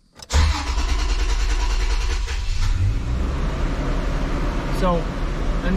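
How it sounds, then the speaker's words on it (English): A 2006 Toyota Tundra with a 4.0 V6 engine starts and then idles steadily at a slightly raised speed after its fault codes are cleared, a loud, continuous engine rumble heard close up with no talking. "So initially, it's going to idle a little higher than normal."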